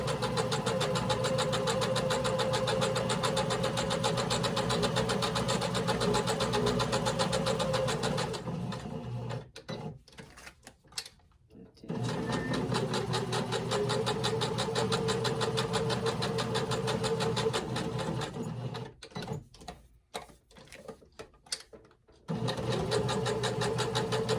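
A sewing machine stitches fabric napkin rings in steady runs, with a pause partway through before the motor hums back up, then another brief break near the end.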